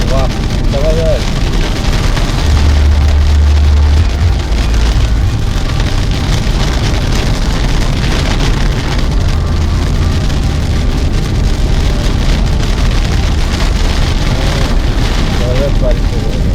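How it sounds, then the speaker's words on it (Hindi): Heavy rain pounding on a car during a family road trip from Gurgaon to Ayodhya, a loud continuous roar of drops on the roof and glass with the low rumble of the moving vehicle underneath. "जबरदस्त बारिश हो रही है।"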